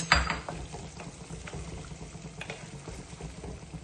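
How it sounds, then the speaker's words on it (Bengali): Hot water added to a chicken roast in a pan sets off a faint steady bubbling simmer, with one louder splash at the start and soft pops after, close by. "একটু পানি অ্যাড করে দিচ্ছি, তাহলে এই পানিতে একেবারে আমার মাংসটা হয়ে আসবে"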